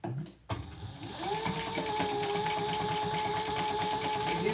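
A sewing machine backstitching over card slots on a wallet, starting with a brief knock, then a steady close rapid needle rattle and motor whine that runs evenly to the end.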